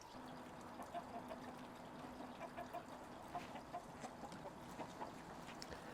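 Chickens cluck in soft, scattered notes against a steady wash of rain during a windstorm, fairly distant and low in level.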